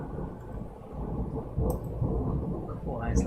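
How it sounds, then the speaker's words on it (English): Real thunder outside during a game stream: a long, loud low-frequency rumble rolling continuously, swelling slightly partway through, with rain hiss faintly mixed in. "Oh, that is loud. I do love a bit of thunder in real life."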